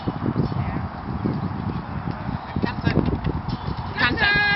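A young horse canters in a round pen, its hoofbeats thudding in a steady three-beat rhythm close by over a dull background rumble.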